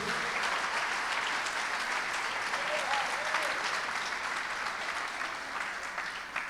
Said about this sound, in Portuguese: Você pode dar um aplauso a Jesus essa noite?